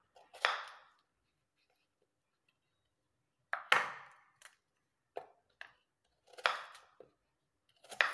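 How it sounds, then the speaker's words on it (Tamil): A large onion being cut with a knife, heard as a few sharp, close slicing crunches separated by silent pauses, quiet overall, with no talking. "நல்லா பெரிய சைஸ் வெங்காயமாக ஒரு வெங்காயம் வந்து கட் பண்ணிக்கோங்க"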